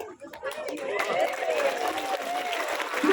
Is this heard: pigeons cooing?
no